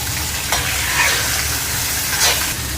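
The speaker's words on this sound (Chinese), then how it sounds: "咱们可以听这个锅里的声音滋啦滋啦的" Pork ribs sizzle steadily in a wok over a moderate flame as they are stir-fried, a loud, close crackling hiss with a couple of brief scraping stirs.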